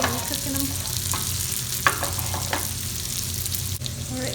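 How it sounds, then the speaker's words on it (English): Chinese dumplings fry in a hot pan, a continuous close sizzle and crackle with a few soft clinks and scrapes as the pan is shaken, and no voices. "shake them while you're cooking them"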